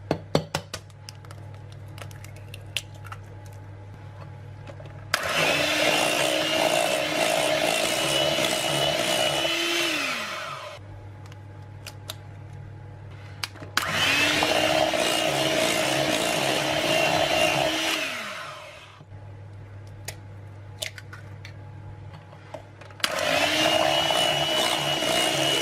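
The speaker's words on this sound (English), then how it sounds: "And now we'll whisk in the eggs one at a time." An electric mixer whisks eggs into a ricotta cheesecake batter, running in three loud, close bursts of several seconds each with quiet pauses between them.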